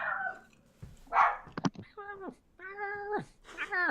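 A dog gives several short yowling, bark-like calls close by, separated by brief pauses, with some faint sounds between them.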